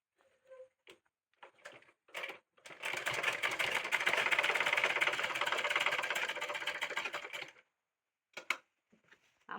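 A sewing machine stitching the collar of an abaya gown: a few short stuttering starts, then a steady whirring run of several seconds, stopping before brief closing taps, heard close and without talk.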